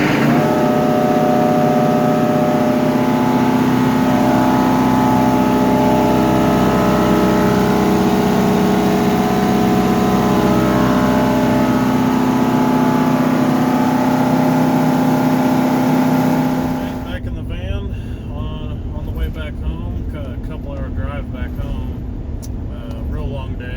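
A Kia diesel engine on a Generac generator runs steadily with a loud, even hum, then its tone roughens and drops partway through, shifting to a harsher, rattling drone.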